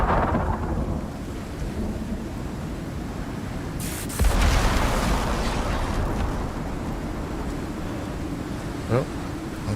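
Thunderstorm in the survival game Icarus, with steady heavy rain hissing throughout and a sudden loud crack of thunder midway that rolls into a long rumble, then a smaller crack near the end.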